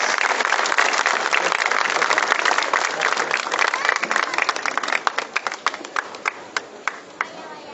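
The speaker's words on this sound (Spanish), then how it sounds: "todos juntos vamos a dar fuertes aplausos a nuestro Señor crucificado del Rímac y a la Virgen del Carmen" Dense crowd applause fills a religious procession honoring the crucified Lord of Rímac and the Virgin of Carmen, steady and loud at first, then thinning into scattered individual claps toward the end.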